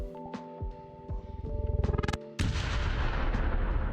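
A VRChat avatar's built-in weapon fires a synthetic gunfire effect: a tonal mechanical whir, a quick rising burst of rapid shots, then a loud, sustained roaring barrage, with no talk.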